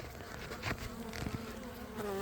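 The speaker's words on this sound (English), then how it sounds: "There's a bunch of bees." A dense, steady buzzing of many honey bees close by, with individual bees droning past over the continuous hum.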